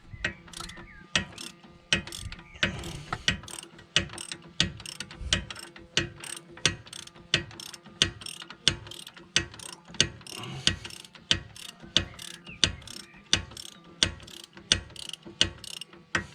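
A tool strikes a car's brake caliper during a Volvo top suspension mount replacement, about thirty sharp metallic knocks in an even rapid rhythm, close and fairly quiet, with no talking.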